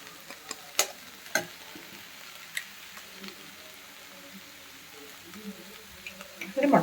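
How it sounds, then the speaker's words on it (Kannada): Four eggs land in a hot pan with a soft, steady sizzle, broken by a few sharp clinks and taps, close and fairly quiet. "ಒಂದು 4 ಮೊಟ್ಟೆ ಹಾಕ್ತಾ ಇದ್ದೀನಿ."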